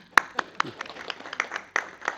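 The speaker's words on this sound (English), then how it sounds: "maybe we can give her a round of applause" A small group at a city council meeting claps briefly, separate sharp claps in an uneven rhythm, thin and fairly close, with faint talk underneath.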